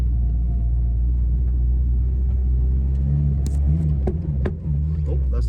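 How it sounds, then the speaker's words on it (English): A Yugo car rolls slowly down an icy driveway on a cold engine, its low idling rumble steady throughout, with a few clunks and knocks as the loose exhaust slaps against the floor toward the end. "Oh, that's the exhaust slapping up against the floor."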